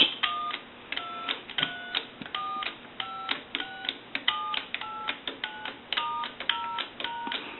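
A series of short payphone keypad tones beeps in a quick steady rhythm, each beep a distinct two-note push-button dialing tone.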